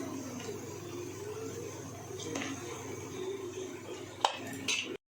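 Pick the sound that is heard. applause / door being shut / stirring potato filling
stirring potato filling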